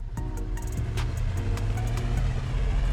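A 1992 Ford F-150 XLT with a 5-liter engine pulls away on a test drive, its steady low drone rising slightly in pitch as it accelerates, with a few faint clicks over the cabin rumble.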